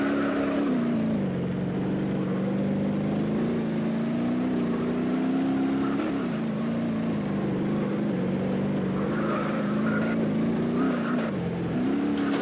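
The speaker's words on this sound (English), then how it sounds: "But it is good at drifting" A revving car engine in the video game BeamNG.drive, its pitch rising and falling as it drifts through turns, with brief tire-skidding bursts, loud and continuous, no voices.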